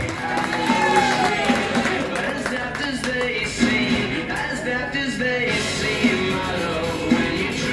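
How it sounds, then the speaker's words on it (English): A rooftop comedy club crowd cheers, yells and claps in a dense, loud, continuous roar, with voices shouting over the noise throughout. "Big round of applause."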